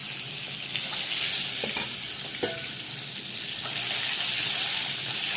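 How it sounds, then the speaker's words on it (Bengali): An egg fries in a pan with a steady, close hiss of hot oil, bright and even throughout, broken by a few faint clinks of a utensil. "ডিমটা ভেজে নেব।"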